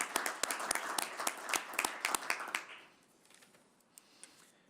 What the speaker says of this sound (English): So I think a round of applause to the service is warranted.